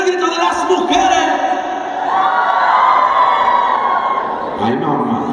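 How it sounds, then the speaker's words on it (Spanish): A crowd of mothers at a public event shouts together on cue, a loud sustained collective yell that swells and fades, with some voices and whoops mixed in. "Por favor, mamás, con muchas ganas, a ver todas, ¡el grito de las mujeres!"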